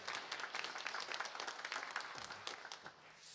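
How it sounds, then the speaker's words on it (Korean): A church congregation at a Sunday worship service claps in brisk, dense applause to welcome a visiting elder, with the clapping staying steady for a few seconds before easing off. "저희가 박수로 환영해 드리겠습니다"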